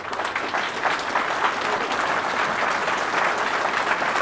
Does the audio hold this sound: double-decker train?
no